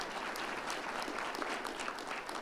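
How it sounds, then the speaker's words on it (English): A breakfast keynote audience applauds with dense, even clapping from a crowd for a couple of seconds, moderately faint, with no talk over it. "it deserves a round of applause"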